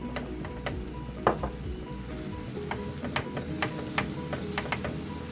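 A steak sizzles steadily in a frying pan alongside potatoes and vegetables, a continuous close crackle and hiss dotted with sharp pops and ticks from spitting fat, with nobody talking.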